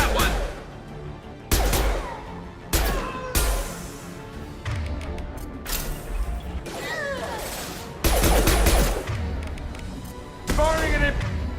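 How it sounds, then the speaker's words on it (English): Repeated sharp impact blasts in the Mass Effect game, the impact shot gunfire landing as a series of loud broadband bangs at irregular intervals, mixed with game effects and voices talking over and between the shots. "Firing an impact shot!"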